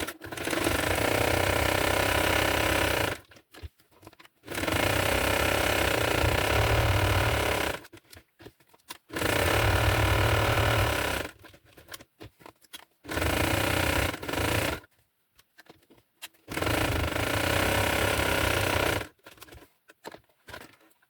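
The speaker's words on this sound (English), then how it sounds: "we'll put this to my sewing machine, just sew around, right around the whole cover" A sewing machine stitches right around a journal cover made from a chocolate box, running in steady buzzing bursts of several seconds with short pauses between them, close and loud, with no talking.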